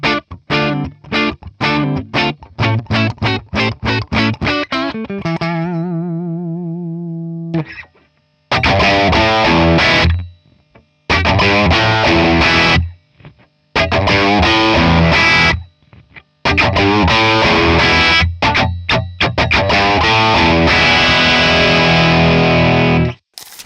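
Electric guitar licks play through a Matchless SuperChief 120 amp and a 4x12 cab loaded with Matchless-branded Celestion speakers, with a driven rock tone. Rapid staccato picking leads into a sustained vibrato note, followed by loud choppy bursts with abrupt gaps, close-miked and with no talking.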